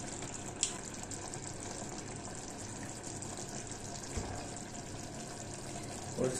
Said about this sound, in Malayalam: ഇനി നമുക്കിതിലേക്ക് അവസാനമായിട്ട് അല്പം പച്ച വെളിച്ചെണ്ണയും കൊണ്ട് ഒഴിച്ചു കൊടുക്കണം